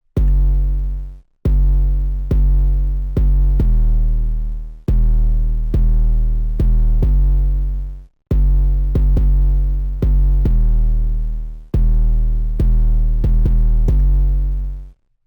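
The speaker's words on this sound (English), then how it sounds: "I just did that and made this 808 pattern that sounds like this." A booming 808 bass pattern in a trap-style beat, heavy sustained low notes following the chord roots with a steady repeating rhythm, loud and alone.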